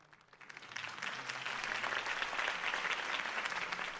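Crowd applause following a political campaign speech in Batman: The Telltale Series, swelling up from quiet into sustained, dense clapping from a large audience.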